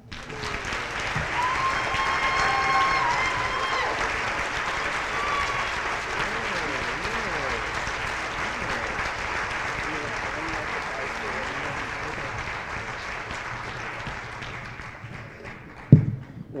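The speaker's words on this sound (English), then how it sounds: "another round of applause" Sustained audience applause at a youth symposium, a steady, full wash of clapping that holds for over fifteen seconds before a sharp thump near the end, with a voice faintly present.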